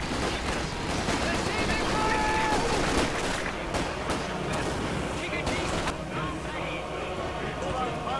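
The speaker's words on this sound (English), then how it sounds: "MG42. Stay low." MG42 machine gun fire in Company of Heroes 2, a dense battle din of continuous rattling bursts and explosions, loud and unbroken throughout, with a voice talking over it.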